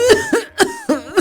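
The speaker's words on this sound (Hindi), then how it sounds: "जानबूझकर फिर से खांसना शुरू कर देती है" A woman coughing deliberately: five short, harsh, voiced coughs in a quick uneven series, loud and close, with brief gaps between each.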